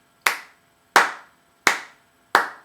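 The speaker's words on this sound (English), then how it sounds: "Clap your hands to a steady beat." Four sharp hand claps ring out at an even, steady pace, each one crisp and close with a short decay before the next.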